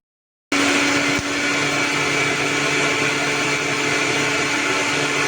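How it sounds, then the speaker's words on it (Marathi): Mixer grinder blending watermelon with mint and tulsi leaves, starting abruptly after a short silence and then running loud and steady as a continuous whirring motor roar. "आता आपण मिक्सरला फिरून घेऊया"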